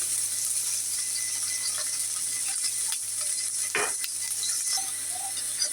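Ginger and garlic fry in a pan with a steady, bright sizzle throughout, broken by a few soft clinks and scrapes of stirring, and no one talking.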